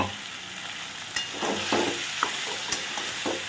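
Cabbage with prawns and fried potatoes frying in a pan, a steady close sizzle with a few quick scraping stirs of a spoon.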